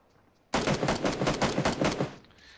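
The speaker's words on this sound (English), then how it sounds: "You just start shooting." A burst of rapid automatic gunfire in a video game, loud and close, lasting about a second and a half before cutting off.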